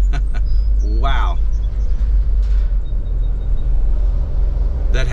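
Car traffic while driving across a narrow bridge over the Delaware River, a steady low rumble of engine and road noise inside the vehicle with a brief squeal-like tone, and a voice talking over it.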